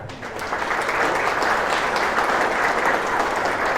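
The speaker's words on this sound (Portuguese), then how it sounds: "Vamos aplaudir essa palavra?" A church congregation applauds after a scripture reading, dense even clapping swelling up and holding steady for a few seconds.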